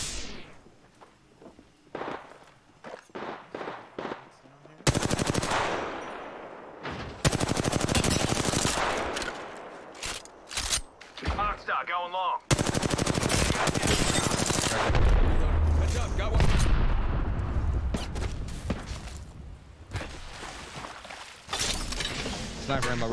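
Gunfire in the battle royale video game Apex Legends crackles in dense automatic bursts and scattered single shots, loud and sustained through most of the stretch, with quieter footsteps and clatter early on and a player's voice talking over it.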